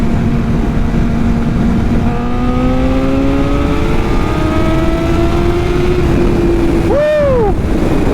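Kawasaki ZX7R sport motorcycle pulling hard in third gear, its engine note climbing steadily and loudly under heavy wind rush, with a brief sharp pitch swoop near the end.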